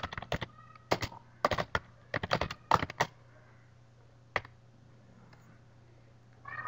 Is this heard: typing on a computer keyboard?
yes